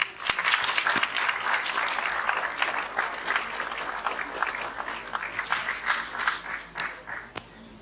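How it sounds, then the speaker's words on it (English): Conference audience applauds at a closing session in Ohrid, a dense burst of clapping that starts strong and gradually thins and fades toward the end. "Big round of applause for all of you."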